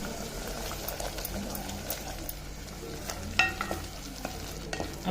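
Misal gravy sautés in hot oil in a pan with a steady sizzle, broken by occasional scrapes and clinks of a spoon stirring it.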